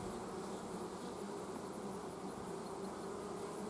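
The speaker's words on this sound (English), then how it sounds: "Very gentle bees, easy to work with" Gentle honey bees swarm around an open, crowded hive with frames set down, a dense, even buzz that fills the space close by and never lets up, with no voices.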